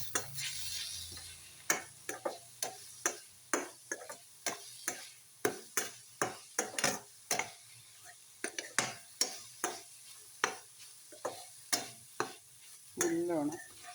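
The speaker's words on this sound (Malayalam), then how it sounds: "എല്ലാം മിക്സ് ചെയ്യുക." A spoon scrapes and taps rhythmically in a pan as spices with turmeric, Kashmiri chili powder and fennel powder are mixed, sharp regular strokes over a faint low sizzle, with a brief voice near the end.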